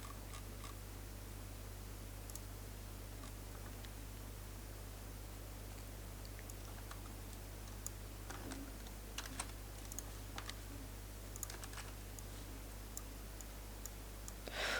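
Keys tapped on a computer keyboard while writing a note in Notepad, a quiet run of irregular clicks over steady electrical hum, growing busier and more clustered toward the end.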